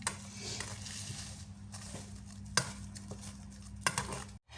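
A knife slices crab sticks on a cutting board for a salad, giving a handful of quiet, irregular chopping taps against the board with faint low background hum and no talk.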